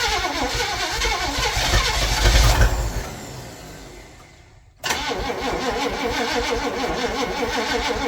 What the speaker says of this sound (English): Too much throttle. It was stuck.